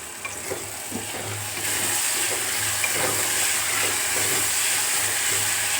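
Onions for a tomato, onion and green chili curry cook in a pan with a steady, close sizzling hiss that grows fuller partway through and carries faint stirring knocks, with no talk.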